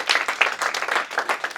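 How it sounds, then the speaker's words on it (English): Comedy club audience at The Comedy Attic breaking into a short burst of dense clapping, loud and close, a crowd applauding together without talk. "Round of applause if you've ever been to Texas."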